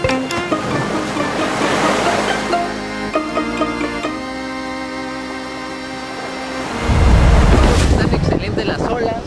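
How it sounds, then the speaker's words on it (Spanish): Ocean surf at a beach in Puerto Escondido, Oaxaca, with good waves for surfing: a steady broadband wash of breaking water with wind buffeting the microphone and a louder surge near the end, no one speaking. "Están excelentes las olas, para surfear están de maravilla"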